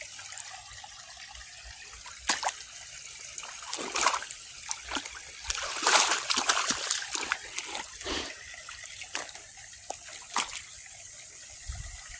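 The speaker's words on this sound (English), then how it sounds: "This water is moving, but it's still kind of nasty." Moving water, murky and dirty, splashes and trickles in irregular bursts close by, with louder swirls in the middle and quieter dribbling around them.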